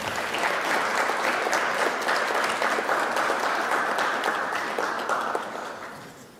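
An audience at a regional civics bee competition in Fayette County gives the finalists a round of applause, a dense, even burst of many hands clapping that fades out over the last second.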